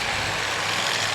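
Race car engines roar steadily at a big car figure 8 race on a dirt track, a dense, continuous drone of several motors running together at close range.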